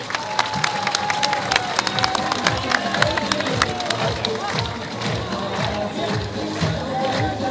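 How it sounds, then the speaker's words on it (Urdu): Crowd at an MQM Pakistan political rally in Hyderabad celebrating a cantonment board election, cheering and clapping loudly and continuously, with a dense roar of voices and sharp claps throughout. "استقبال کیجیے اپنی پرجوش تالیوں میں کنوینر متحدہ قومی موومنٹ پاکستان ڈاکٹر خالد"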